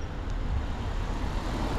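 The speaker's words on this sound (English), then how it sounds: "First mail truck." A mail truck drives past on a city street, its engine and tire noise forming a steady, fairly loud rumble that holds evenly throughout.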